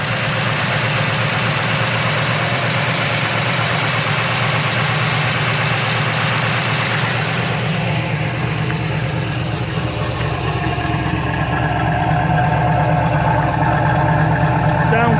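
A 1969 Ford Mustang Mach 1 Cobra Jet with a freshly rebuilt 427 V8 idles close by with a loud, lumpy, rumbling beat that holds steady throughout, its tone shifting slightly partway through, with voices talking over it.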